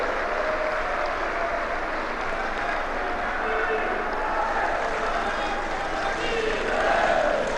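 Sustained applause from a large audience fills an official event hall in Dwarka, New Delhi, honouring Prime Minister Modi; steady, dense clapping holds throughout and swells slightly near the end.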